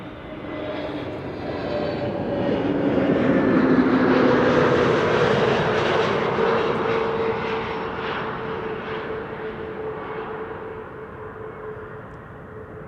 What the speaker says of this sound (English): This is Transavia flight 5132